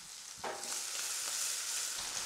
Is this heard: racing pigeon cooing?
no